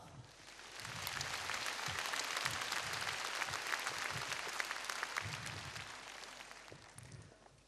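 Dense, steady applause from a concert audience at a charity memorial concert in Varna, loud and sustained for the whole stretch, with a few claps standing out close by and no voices.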